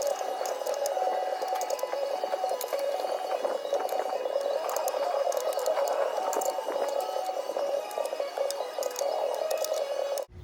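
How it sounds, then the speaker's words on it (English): Bolts are backed out of a Jeep Wrangler YJ's NP251 transfer case with a rapid, continuous mechanical ratcheting buzz, close and steady for about ten seconds before stopping abruptly, with no talking. "So I'm going to finish backing out these bolts on this side."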